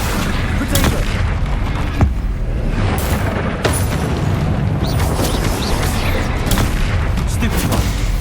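A Confringo blast spell fires in Hogwarts Legacy amid chaotic spell combat, several sharp explosive cracks and booms landing in quick succession over a constant loud din, with a voice speaking now and then.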